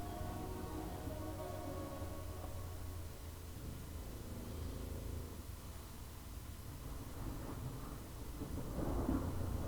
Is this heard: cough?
no